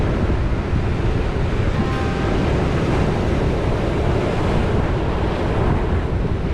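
Steady roar of ocean surf washing onto the shore in West Maui, continuous and fairly loud with wind buffeting the microphone.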